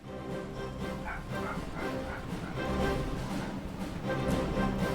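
A puppy's yips and small barks sound faintly over steady, busy background noise, intermittent and close-ish throughout the five seconds.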